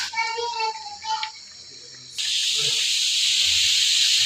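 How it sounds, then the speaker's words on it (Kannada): Pressure cooker cooking chicken sambar releases a loud steam whistle, a sharp continuous hiss that bursts in midway and holds to the end, preceded by brief tonal sounds and faint voices. "ಈಗ ವಿಸಿಲ್ ಬರ್ತಾ ಇದೆ."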